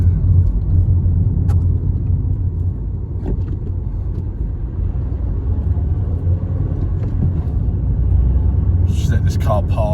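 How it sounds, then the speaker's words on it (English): A car passes along a road during an outdoor vlog, its engine and tyre rumble a steady low wash throughout the recording, with a voice talking faintly over it. "Let this car pass and I'll end the footage."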